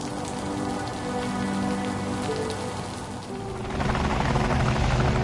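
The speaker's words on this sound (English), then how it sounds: "Military choppers!" Military helicopters in the video game Liberated give off a steady, rushing roar. The roar grows louder and denser toward the end, with no talking.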